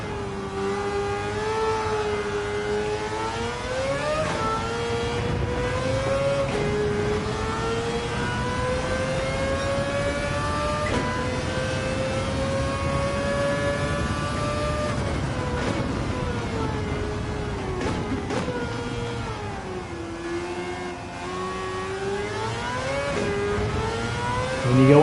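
A Mazda R26B four-rotor racing engine, swapped into a car in Gran Turismo 7, screams loud and close through sustained high revs, its pitch climbing and dipping with gear changes and throttle lifts.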